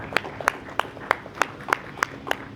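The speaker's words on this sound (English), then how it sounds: "Can we give her a round of applause, please?" Sparse, evenly spaced claps ring out about three times a second at a panel discussion, sounding like a single person or a small audience clapping steadily with no talk.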